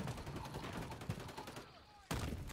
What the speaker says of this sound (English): Getting shot from everywhere.